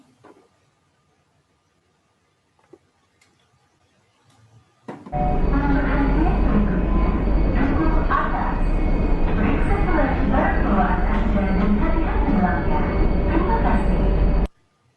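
Steady, loud rumbling of a KRL commuter train carriage bound for Bogor Station rolling on rails, with broadband rattling and clatter continuing after a quiet start.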